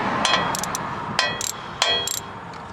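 A wrench works loose a thermostat housing nut on a 2000 Toyota Camry, a few sharp metallic clicks and ratchet-like ticks at irregular intervals, close and moderately loud.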